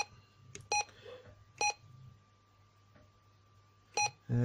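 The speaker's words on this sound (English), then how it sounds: "you can turn the beep off if you want, so it doesn't beep all the time" Several short electronic key beeps from a Blueskysea CB-27 QYT CB radio, sharp and spaced irregularly, over a faint steady hum in an otherwise quiet room.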